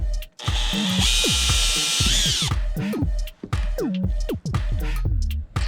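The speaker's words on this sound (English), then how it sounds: "let's go ahead and drill these holes" A power drill with a 1/8 bit spins up loudly, drilling straight through a kayak crate, and runs for over a second, then stops, followed by clattering and knocking as the work is handled, close by.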